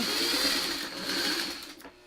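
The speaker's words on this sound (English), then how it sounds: "we're going to run this under the sewing machine again, making sure everything's lined up good before you start stitching." Sewing machine stitching quilt pieces for a spinning diamonds block, a steady close whirring run lasting about two seconds before slowing to a stop.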